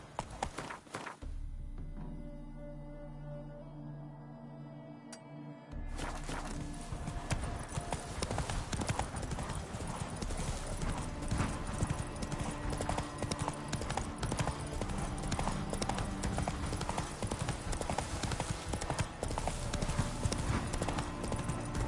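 Roach the horse trots in The Witcher 3, a steady, rapid clip-clop of hooves with game ambience and a low background drone, continuing at an even rhythm throughout.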